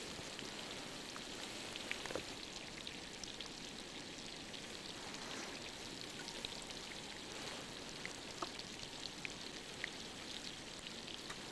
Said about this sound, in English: the ice fizzing in the background you hear is actually compressed snow